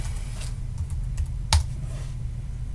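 A few sparse key clicks from typing on a computer keyboard, with one sharper, louder keystroke standing out midway over a steady low room hum.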